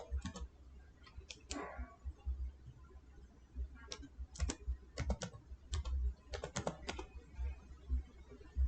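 Typing on a computer keyboard while entering a search in Windows 11: irregular bursts of quick, light key clicks, close and fairly quiet, alone with no talk.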